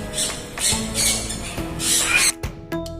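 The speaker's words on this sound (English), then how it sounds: "Enjoy the sound of birds." Birds squawk and call repeatedly at Jurong Bird Park in Singapore, a dense, loud chorus of harsh, overlapping cries close by, with brief pauses near the end.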